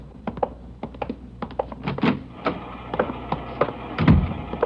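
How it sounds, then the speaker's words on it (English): An IBM punch card machine runs a stack of police shooting records, giving off a steady series of sharp mechanical thunks and clacks at an uneven, rapid pace, close and fairly loud with no talk over it. "She's running all the cards on previous shooting through the IBM machine"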